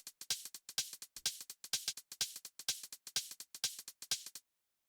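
Programmed minimal house hi-hats tick in a crisp, swung pattern, with bright short hits repeating rapidly alongside a few accented strikes, dry and alone, before stopping abruptly.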